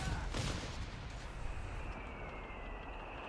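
A mortar pit firing in the video game Company of Heroes 3 rumbles under a steady wash of battle noise, with a dull thump near the start and continuous distant booms.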